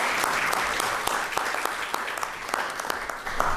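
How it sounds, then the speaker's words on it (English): An audience at a Salem, Massachusetts city council meeting applauds steadily throughout, with dense, continuous clapping in a room and no pauses. "I want to give you guys a round of applause."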